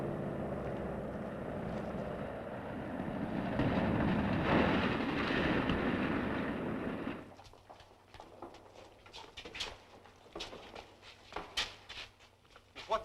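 An airplane in a 1937 film serial roars loudly overhead as it comes in to land behind a hangar. The engine drone swells and then cuts off after about seven seconds, followed by scattered clattering noises.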